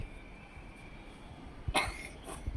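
A child's single sharp cough bursts out, then a softer second one, against a quiet background hum.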